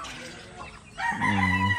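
A rooster crows loudly nearby after a moment of softer clucking and background noise.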